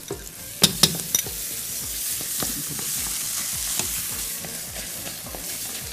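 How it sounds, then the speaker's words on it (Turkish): Onions, peppers and tomato paste fry together in a pan with a steady broadband sizzle, punctuated by a few sharp utensil clinks and scraping stirs near the start, continuing evenly throughout with no talking. "Yine salçayı, soğanı ve biberi hep beraber ne yapıyoruz? Güzel bir şekilde şu an kavuruyoruz."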